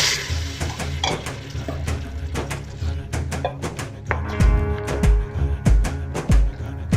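Vegetable stock pours into a frying masala of turmeric and garam masala, bringing a steady sizzle with stirring scrapes and a few clinks of utensil against the pan, close by and without any voices.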